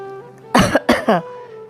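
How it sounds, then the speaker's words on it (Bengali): A man coughs a few times close by, three short harsh bursts in quick succession against a quiet room. "ঘরে ঢুকে একটা কাশি দিয়ে"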